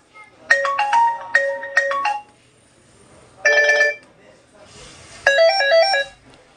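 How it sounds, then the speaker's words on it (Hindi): Three bursts of a bright electronic phone ringtone, each a short repeating melody separated by brief pauses, loud and close. "इसका रिंग टोन वॉल्यूम"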